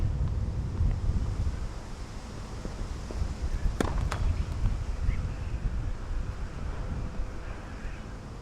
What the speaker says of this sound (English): still quite windy out there